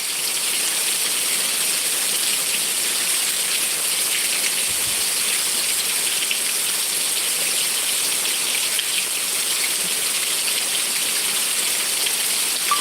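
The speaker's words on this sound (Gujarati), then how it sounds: "મુશળધાર વરસાદ ચાલુ છે" Steady, dense downpour of heavy rain, a continuous close hiss with no pauses and no voices.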